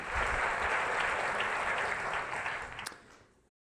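An audience at a national geography bee final applauds steadily, a fairly faint, even wash of clapping that fades out after about three seconds.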